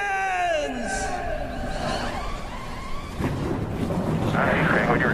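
NASCAR stock car engines start up at the Indianapolis Brickyard for the 2020 Big Machine Hand Sanitizer 400, a deep, building roar that swells after a few seconds of fading tonal sound.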